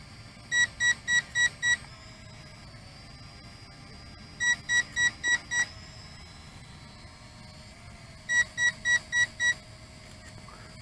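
An Eachine E520S GPS WiFi FPV foldable quadcopter sounds its low-voltage warning: three clusters of five quick, sharp electronic beeps, evenly spaced over steady background hiss with no talking.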